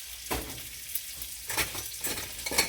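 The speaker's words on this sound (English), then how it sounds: "So I'm going to scoop up these carrots and throw them in." Chopped mini carrots scooped and thrown into a cooking pot for rooster and dumplings, heard as several sharp clattering thuds and scrapes spaced over a soft sizzling background, fairly close.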